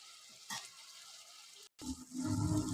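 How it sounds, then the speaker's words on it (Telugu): Cauliflower frying in a pan of oil, a soft steady sizzle that swells in the second half after a brief clatter and a moment of near silence. "ఇప్పుడు కాలీఫ్లవర్ అయితే మంచిగా ఫ్రై అవుతుంది ఆయిల్లో."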